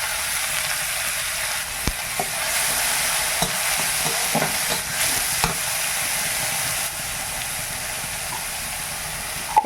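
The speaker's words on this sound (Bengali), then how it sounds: "আর দিচ্ছি চপ করা পেঁয়াজ" Finely chopped onion frying in a pan, producing a loud, continuous hissing sizzle close up, with a few faint clicks of stirring scattered through it.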